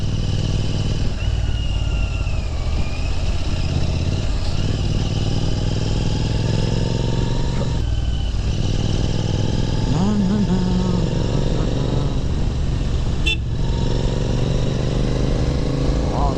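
Royal Enfield Interceptor 650 riding on the road from Gangavathi to Sagara, its twin-cylinder engine a steady close drone with wind rush, shifting pitch now and then as the throttle changes.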